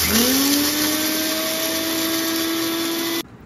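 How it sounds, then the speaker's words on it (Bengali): An AGARO Regal personal blender grinds dry-roasted spices in one loud, steady high-pitched motor whine that holds for about three seconds, then cuts off abruptly. "ভাজা মশলা বানানোর জন্য প্রথমেই আমি মশলাগুলোকে একটু ড্রাই রোস্ট করে নিয়েছি, তারপরে দিয়ে দিলাম গ্রাইন্ডারের মধ্যে"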